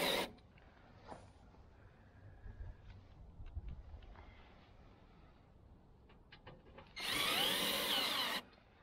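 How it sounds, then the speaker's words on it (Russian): A power drill drives a self-tapping screw into roof trim on a standing-seam metal roof: a faint short whir near the start, quiet handling, then a loud, close, steady drilling burst lasting about a second and a half. "чтобы у вас была возможность закрутить сюда саморез"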